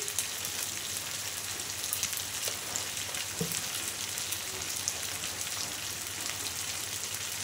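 Spice masala frying in a pan with hilsa fish head and yam, a steady close hiss and sizzle of oil running without a break, with faint clinks now and then and no talk.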